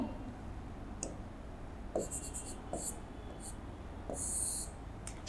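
Faint, scratchy strokes of writing on a board during a Class 7 maths lesson, coming as short separate bursts at a low, quiet level with a soft room hiss underneath.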